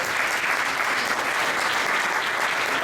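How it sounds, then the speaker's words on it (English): A conference audience at a PropTech startup competition applauds a speaker being introduced, a dense and steady wash of clapping from many hands throughout, with no talk over it. "A round of applause for Ryan Baxter of MIPIM."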